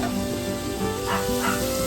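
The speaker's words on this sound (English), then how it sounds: "barking in the background" A pet dog barks and yips in a home kitchen while sausage browns in a pan, short sharp barks repeating through a steady sizzling background.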